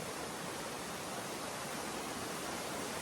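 Waterfall beside a mountain trail in the White Mountains of New Hampshire, heard as a steady, loud, broadband roar of falling water that fills the whole moment without any break or voice.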